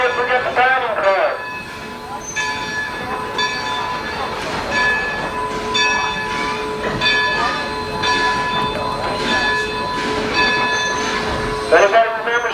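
Illinois Central 790 steam locomotive on a 1991 excursion, a steady rolling rumble with ringing metallic tones and a bell-like clang, voices murmuring in the background throughout.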